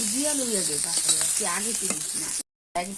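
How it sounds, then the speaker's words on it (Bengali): Maggi masala being stirred into food frying in a pan, a bright steady sizzle with scraping stir strokes, close by, overlaid with an unrelated whistling or singing tone and a brief cut to silence near the end. "ম্যাগির মশলাটা দিয়ে দিলাম একটু লাড়া সারা করাম"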